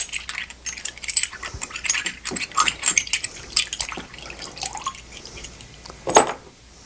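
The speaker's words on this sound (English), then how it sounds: "Then we simply rinse it off." Water rinsing over a gun bolt being cleaned, scattered splashing drips and small metallic clinks and taps in an irregular patter, with one louder sharp clank near the end.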